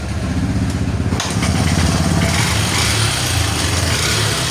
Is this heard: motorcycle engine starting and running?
yes